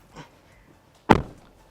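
A Kia Carens Clavis EV car door shuts with a single solid thunk, preceded by a faint soft rustle, close by and otherwise quiet.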